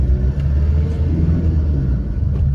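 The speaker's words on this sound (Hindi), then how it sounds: "दहाड़ती है भाई ये गाड़ी" A 2010 Maruti Dzire with a 1.3 DDIS diesel engine revs in a loud, close, deep rumble that holds steady throughout.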